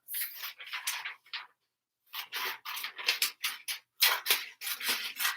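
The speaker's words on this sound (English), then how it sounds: "where's my scissors? All right, I'm cutting up names." Scissors cut paper name slips in a run of quick, close, crisp snips with a short pause after the first few, with no talking.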